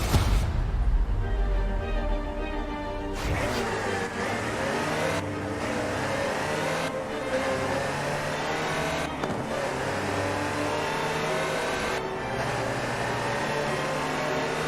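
Land Rover Type 3 driven in the racing game Forza Horizon 4, its engine revving up and dropping back repeatedly through gear changes, a sustained mid-pitched drone with sharp breaks between pulls.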